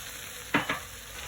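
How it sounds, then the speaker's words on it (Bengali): Onion frying in mustard oil for a country chicken bhuna: two quick stirring scrapes in the pan over a faint, steady sizzle, close and brief, with nobody speaking. "একটু ভাজা ভাজা হয়ে গেছে পেঁয়াজটা।"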